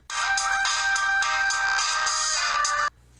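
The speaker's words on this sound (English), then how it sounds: "cell phone rings" A cell phone rings with a steady electronic ringtone for about three seconds, loud and close in a quiet room, then stops abruptly.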